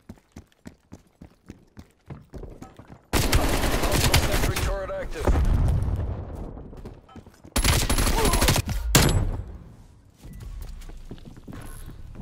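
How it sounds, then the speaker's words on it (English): Bursts of automatic gunfire in Call of Duty Black Ops Cold War on the Raid map, with sharp single shots and loud sustained volleys, alongside footsteps and a player's voice. "Oh, I'm getting shot. I'm getting shot."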